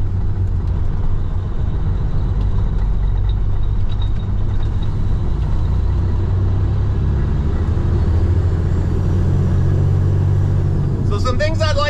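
A vehicle engine hums and rumbles steadily at close range while driving, a constant low drone that runs the whole time, with a brief burst of higher clatter near the end.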